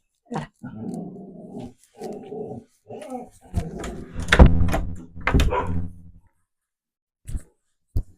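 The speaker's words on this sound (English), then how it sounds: "Sorry, my dog's barking." A dog barks and growls in several bursts, with a few sharper yips, followed by two brief sounds after a pause.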